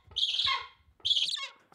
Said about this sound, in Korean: 검독수리 울음소리는 처음 듣는다.